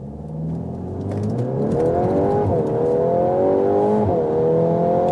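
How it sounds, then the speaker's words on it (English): An 8th-generation VW Golf R 20th-anniversary edition accelerates hard from 0 to 100 km/h, its engine note climbing steadily through the gears with brief dips at each shift, loud and close, with no talking. "That was 0 to 100 kilometers acceleration."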